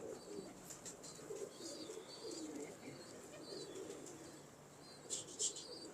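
Pigeons coo in soft, low repeated calls with light wing flutters and faint chirps nearby, a quiet and fairly distant scene.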